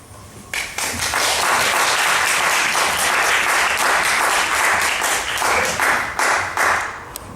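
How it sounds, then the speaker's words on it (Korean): A church congregation at a Sunday worship service gives loud, sustained applause to welcome the pastor to the pulpit, rising sharply after a brief quieter start and holding dense and strong throughout. "우리 목사님 나오실 때 우리 환영합니다. 우리 뜨거운 박수 하겠습니다"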